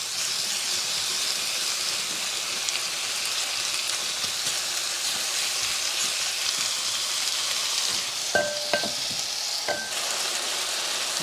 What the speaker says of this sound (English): as you can see, the shrimp started to cook